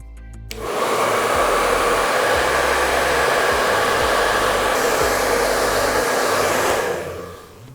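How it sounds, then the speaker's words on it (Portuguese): A hair dryer blows steadily on watercolor paint during a painting lesson. It starts abruptly, holds a loud, even roar for about six seconds, then cuts off, with no talking over it. "Vou secar novamente."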